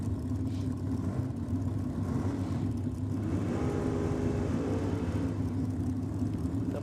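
Drag racing cars idle and rumble at a Nitro Champs evening session: a Holden Calibra with a 454 cubic inch small block and a 350 cubic inch VP Commodore, their engines giving a steady, loud, low burble throughout.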